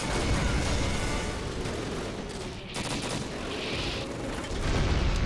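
Heavy artillery fire in the World War II shooter Call of Duty: United Offensive, a loud continuous barrage of booms and gunfire with a brief lull midway before the roar resumes.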